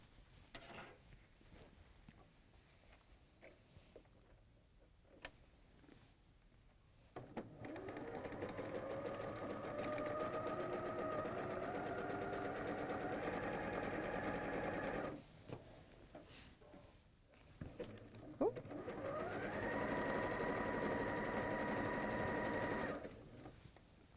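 A sewing machine stitches the side seams of a quilt in two long close runs of rapid whirring and clatter separated by a quiet pause, with no talk during the stitching.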